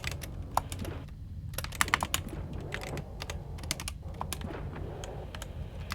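Rapid, uneven clatter of keystrokes on a computer keyboard, continuous and fairly close over a low background hum, with bursts of faster typing and brief pauses.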